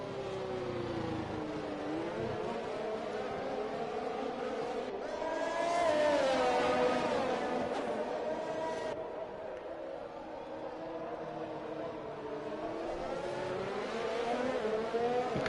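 Race cars in the F1 2021 video game roar around the Azerbaijan Grand Prix street circuit, a steady high engine drone with rising and falling pitch as cars accelerate and pass, continuous throughout.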